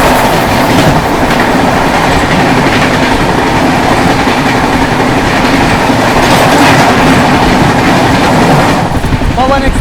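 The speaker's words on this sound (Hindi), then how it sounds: "सामने से आ रही है LTT जयनगर पवन एक्सप्रेस" LTT Jaynagar Pawan Express passenger train rolling past at close range, a loud, steady clatter of wheels on rails lasting throughout with a brief squeal near the end.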